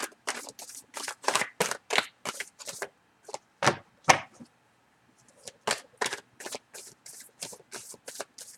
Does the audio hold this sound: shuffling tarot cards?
yes